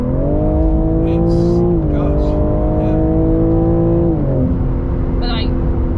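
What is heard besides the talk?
BMW G80 M3 Competition accelerating hard through two gears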